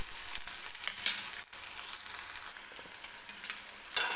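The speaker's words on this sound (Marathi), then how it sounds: "टोमॅटो छान असा भाजून घ्यायचा आहे." Tomato pieces sizzling and frying in hot oil for a vegetable curry, a steady close crackle with light stirring scrapes and a couple of sharper pops, no voices.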